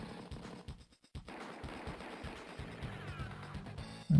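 Scouts open fire on an enemy unit in the Advance Wars video game, a rapid burst of game gunfire and impact crashes in quick succession, broken by a brief silent gap, loud and close with no talking.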